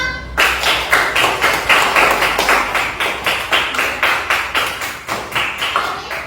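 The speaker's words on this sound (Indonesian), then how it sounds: "Tepuk tangan untuk kita semua" A school class claps together in a classroom, a loud, even rhythm of synchronized group claps repeating about three per second from start to finish, close and without speech.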